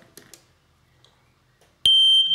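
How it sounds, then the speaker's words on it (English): A white plastic smoke detector under test stays quiet apart from a few faint knocks, then bursts into a loud, piercing, continuous high-pitched alarm tone that holds to the end. "1 white plastic smoke detector."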